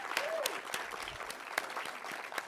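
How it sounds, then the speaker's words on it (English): A graduate show audience at an MFA interaction design event gives a round of applause, heard as scattered, fairly sparse claps and hand strikes spread across a few seconds, with no words. "If we could just actually give them a round of applause."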